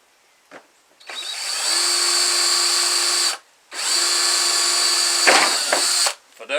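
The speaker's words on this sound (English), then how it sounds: "We gotta get this little plug out of the way and help it drill." A handheld power drill bores into a plastic plug on a water filter housing in two long, high whining bursts with a short pause between, then a brief rattle and a final start.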